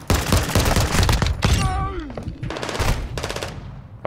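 Rapid gunfire in Modern Warfare 2 during close-quarters multiplayer, including a powerful pistol: loud dense bursts of shots crack in quick succession, with a brief whistling tone midway and a final lone shot.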